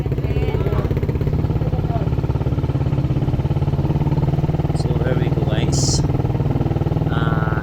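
A motorcycle fitted with an open 34mm carburetor and a silencer runs close by with a steady, loud, throbbing idle that never lets up, while someone speaks briefly over it.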